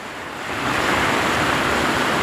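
Muddy floodwater rushes down a small stream swollen into a river by heavy Konkan monsoon rain, a loud, steady broadband roar that swells in the first half-second and then holds constant, close by.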